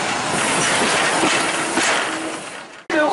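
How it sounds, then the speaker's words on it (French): A train moving forward along its track gives a loud, continuous rumble with rolling mechanical rattle, fading slightly before a sudden break and a brief squeal at the end. "on va laisser le temps au train de s'avancer pour que tout le monde puisse bien voir"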